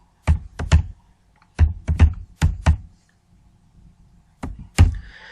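Keys struck on a computer keyboard while typing a Java file name, crisp clacks in quick clusters of two and three with short pauses, close and loud, no talk.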